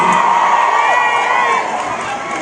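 A concert crowd cheers and shouts loudly for a singer, a dense, steady roar that eases slightly toward the end.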